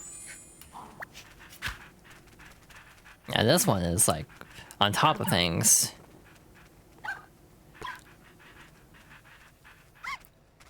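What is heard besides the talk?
dog panting in the video game Nintendogs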